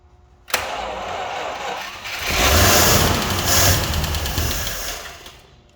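A Packard car engine with a fuel supply problem cranking, catching and running, loud and close with a rising rev that then eases back to a rough, steady run before cutting off.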